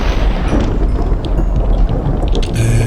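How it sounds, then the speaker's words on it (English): A storm raging above in the video game Minecraft, with a loud, dense rushing of rain and deep rumbling thunder rolling on steadily, alone without talk. "You can still hear that storm raging above."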